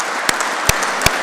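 Applause from around 220 people in a great hall at a Royal Engineers awards evening, a dense hiss of clapping with a few sharper claps standing out.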